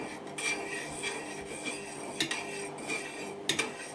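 A spoon scrapes and stirs around the edge of a pot of rice pilaf, repeated metallic scraping strokes close by with no talking.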